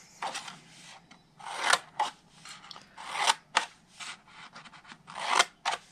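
Scissors snip through patterned cardstock rectangles for a spring Easter basket, cutting each one in to the first score line. Close, crisp cuts come in quick bursts with short pauses between them, and no one speaks.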